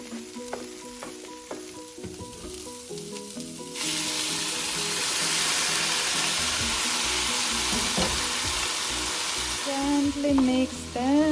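Vegetables stir-fry in a pan beside beef mince. A quieter sizzle with clinks and soft tones gives way to a loud, dense, steady frying hiss that continues to the end.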